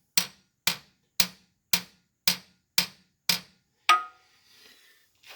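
A hammer drives a load control bushing into a John Deere 4630 tractor: eight sharp metallic strikes at an even, steady pace, close and distinct, followed by a faint ringing tail.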